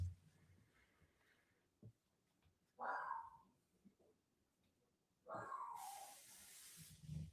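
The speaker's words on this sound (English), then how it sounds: "You can probably hear my dog bark." A pet dog gives a few short, faint barks at a distance in a quiet indoor room, with a soft hissing burst near the end.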